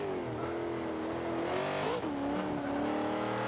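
Engine of a 1995 Ford Mustang, B Class race build, revving steadily at high RPM in the Forza 5 racing game, a continuous loud drone holding its pitch with a brief dip and recovery midway, no speech.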